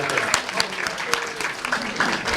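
An audience claps at a YouTube creators event in Cebu, a burst of scattered, fairly close handclaps running for a couple of seconds, with a voice briefly audible over it.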